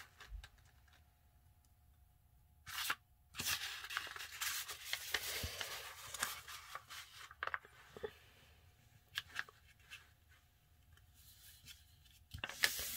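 Quiet, close crinkles and rustles of a paper sheet being folded and creased into a paper airplane, in short bursts with brief sharp taps and pauses between, no voices.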